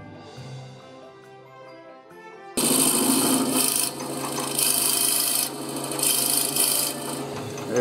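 A router bit bites into wood after a quiet lead-in, a loud sustained cutting roar that rises and dips over several seconds.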